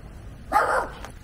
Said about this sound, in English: We got a little dog here.